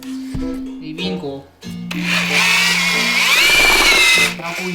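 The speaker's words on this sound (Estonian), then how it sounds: "Nagu jumal tänatud, et mul on trell." A power drill with a mixing paddle churns filler putty, whirring loud and close for a few seconds, with short bursts and a brief pause before it starts again. A voice talks over the start.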